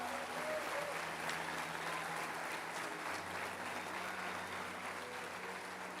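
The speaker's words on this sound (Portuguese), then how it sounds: "Dê uma salva de palmas a Ele" A church congregation claps in a steady, dense wash of applause that runs evenly for several seconds, with a low hum beneath it.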